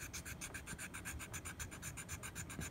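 A 00 file rasping across the bite area of a mouthpiece in quick, even back-and-forth strokes, a close, faint, rhythmic scratching repeated about eight times a second.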